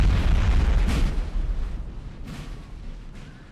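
Artillery bombardment in Napoleon: Total War, a 4v4 battle at Talavera: loud, heavy booming explosions dominate the opening second, then trail into rumbling, scattered distant blasts and bursts.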